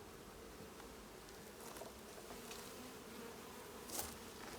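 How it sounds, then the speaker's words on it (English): Honey bees in an open beehive, a faint steady buzzing drone with small swells and one brief louder burst near the end, no voices. "Hopefully, these in here are not too angry"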